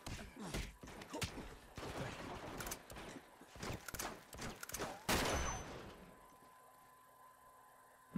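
Bursts of gunfire in Uncharted 2: Among Thieves. There are several sharp, loud shots at uneven intervals over the first five seconds, with faint voices mixed in, and then the sound fades to a quiet tail.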